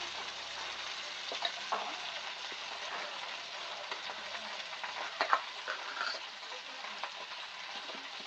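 Spinach with slit green chillies and dried chillies frying in a pan gives a steady close sizzle with occasional small crackles and faint stirring, continuous throughout with no voices.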